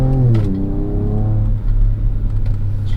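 A 2024 Ford Ranger Raptor with a 10-speed automatic in manual mode revs hard up close, its loud engine note climbing, then settling into a steady low drone.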